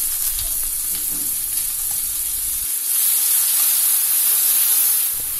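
Slit green chillies, bay leaf pieces and onion paste go into hot oil for a Pabda fish curry, producing a loud, continuous frying hiss that swells brighter midway, close and without speech.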